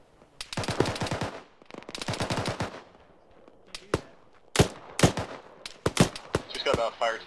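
An Arma fire team engages, with rattling bursts of automatic gunfire in several separate strings and single sharp shots. It is mid-distance, and a brief voice comes in near the end.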